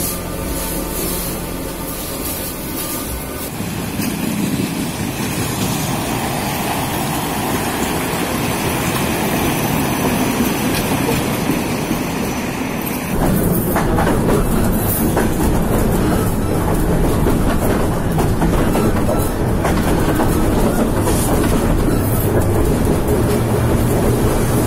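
Metro train rolling into its terminal station, a steady loud rumble of wheels and carriage noise with clickety-clack, swelling louder about halfway through as it runs in.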